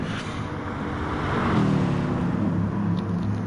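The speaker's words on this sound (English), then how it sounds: "Sound like the BMW though, but it is the BMW. It's the M6 GT3." A BMW M6 GT3 race car engine in a racing video game drones loudly and steadily, its pitch rising slightly as it accelerates, with harmonic engine tones alone and no talk over it.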